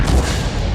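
Tank main gun firing in the World of Tanks video game, a single heavy, booming blast with a low rumbling tail that fills the short moment.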